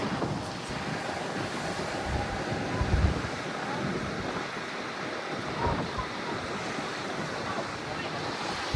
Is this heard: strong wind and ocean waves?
yes